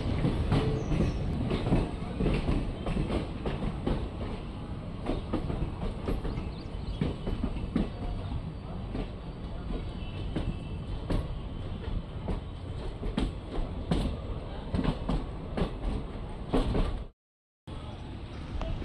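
A passenger train runs on rails near Ballari Cantonment station in India, heard from inside with a constant loud rumble, rhythmic wheel clatter and occasional squeals throughout, without speech.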